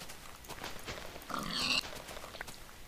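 A pig in Minecraft gives a short burst of grunting oinks midway, faint over a quiet background of game ambience.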